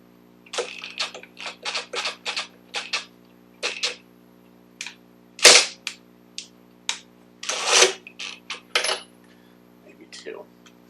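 A spark plug boot is pushed onto the plug of a Briggs & Stratton 550EX small engine, producing a quiet series of sharp, separate clicks and taps in irregular bursts against near silence.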